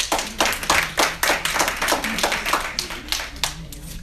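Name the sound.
audience applause for Dr. Rich Castellano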